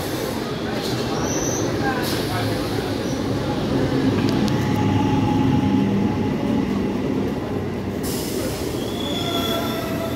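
Down Bandel–Howrah local train at Hooghly station, with wheels squealing loudly and a steady heavy rumble of railcars rolling close by throughout.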